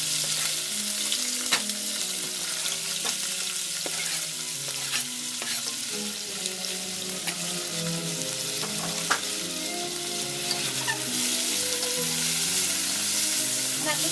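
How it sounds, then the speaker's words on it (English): Garlic and shallot frying in olive oil in a pan, a steady close sizzle with scattered clicks and scrapes of stirring throughout, no talking. "take everything that's on this pan or cutting board and give it a nice fry"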